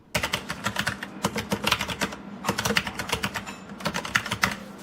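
Rapid keystrokes on a SoundBlasterX mechanical gaming keyboard, crisp clicky taps arriving in quick bursts with short pauses between, close and clear with no talking.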